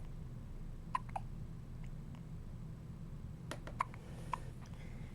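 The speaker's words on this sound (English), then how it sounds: "You both have the hiccups." Two people with the hiccups, heard as a few short, sharp hiccups spread through the stretch. They are faint and sit over a steady low background hum.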